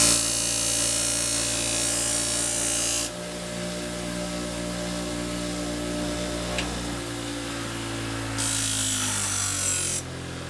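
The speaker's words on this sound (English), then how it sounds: "I move over to a leather wheel and white or pink compound, which will put a mirror smooth edge on the knife" A powered leather buffing wheel loaded with white or pink compound whines steadily as a knife edge is held against it, a sustained motor tone with a rougher rubbing hiss that starts and stops.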